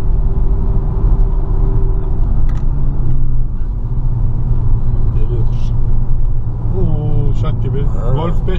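A 2005 Volkswagen Golf 5 gives off a steady low humming drone, loud and continuous throughout, with people talking over it and a brief higher whine near the end.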